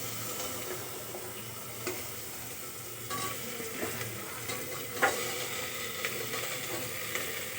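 Vegetables fry in a wok with a soft, steady sizzle and occasional clinks and scrapes of stirring, fairly faint and without talking.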